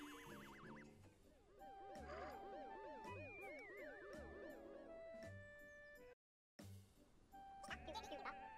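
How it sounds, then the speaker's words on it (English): Wavering, warbling bleats from cartoon sheep in Miitopia, layered and repeated over cheerful game music, with a brief silent gap before the music resumes. "Look, it's sheep."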